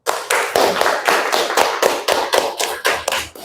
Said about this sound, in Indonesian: Kita beri aplaus untuk kelompok yang sudah presentasi